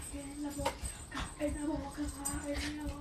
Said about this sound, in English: now y'all will probably hear the dogs and everything